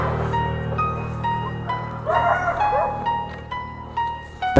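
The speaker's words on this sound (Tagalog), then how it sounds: "4 yung mga asong yan." A group of four dogs barks and yips repeatedly outdoors, mixing sharp barks with higher whimpering yelps at fairly close range, over a low background hum.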